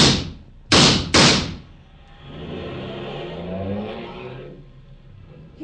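Radio drama effect of a car fleeing the bottom of a fire escape: two loud door slams, then an engine starting and revving as the car pulls away, fading into the distance.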